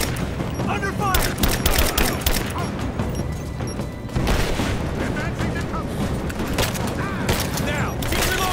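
Dense, sustained gunfire from the video game Rise of the Tomb Raider, with rapid overlapping shots and booming impacts filling the scene at high volume, mixed with shouted combat voices throughout.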